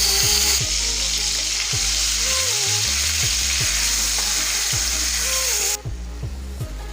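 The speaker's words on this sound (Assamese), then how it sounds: "এইখিনি 1 মিনিটমান সময়ৰ কাৰণে ভাজি ল'ম।" Onion paste fries with panch phoron in hot oil in a kadai, giving a steady close sizzle layered with a droning whine and repeated stirring scrapes, loud and continuous with no voices.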